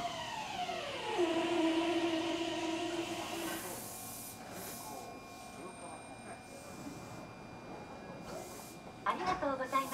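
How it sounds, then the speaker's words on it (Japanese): A Meitetsu 2300 series electric train departs Konomiya station. A rising then falling motor whine is heard over faint platform hiss, with a Japanese platform announcement partly audible and brief clanks near the end. "2番線から電車が発車します。"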